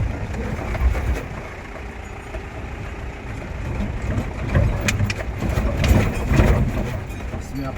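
A 15-year-old Mahindra Bolero Camper with leaf-spring suspension rolls through a pothole, its engine rumbling at low speed with bumps and rattles rising and falling, close and loud throughout.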